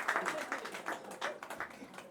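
Audience applause at a devotional gathering, heard as a brief burst of rapid, overlapping claps at moderate volume with a voice faintly mixed in.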